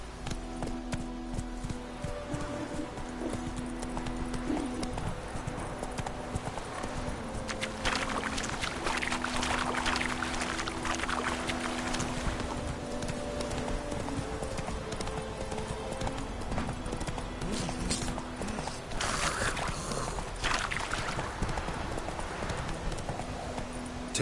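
Roach, the horse in The Witcher 3, trots with a steady run of hoof clops under a soft game soundtrack, moderately close and continuous throughout.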